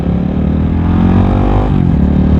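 A 2023 CCM Maverick scrambler motorcycle accelerating in first gear, a loud, close engine drone whose pitch sweeps upward and then drops at a gear change, with no talking over it.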